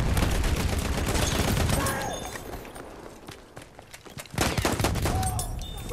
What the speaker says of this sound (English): Another Lewis gun.